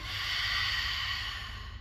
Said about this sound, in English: Strong exhale through your mouth.